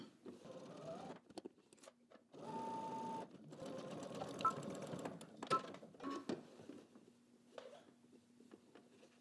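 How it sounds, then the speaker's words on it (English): A sewing machine topstitches across folded fabric, running in several bursts of rapid mechanical stitching separated by short pauses, close and clear in a quiet room. "now with the right side facing up, I'm going to top stitch across the top, making sure that I catch that fold underneath"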